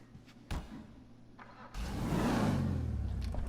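An off-road 4x4 in GTA V Online revs up after a few faint knocks, its engine rumbling in suddenly and holding a loud, steady revving roar to the end.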